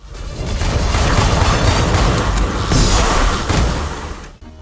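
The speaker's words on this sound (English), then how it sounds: "The gun blasts, the explosions, the creatures hell-bent on ripping you a new one." Gun blasts and explosions in the Lovecraftian action game Tesla Force pile up into a dense, loud barrage of booms and bursts that keeps going without a break before cutting off abruptly.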